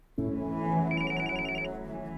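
A telephone rings with a rapid electronic trilling bell, starting abruptly and sounding close and clear.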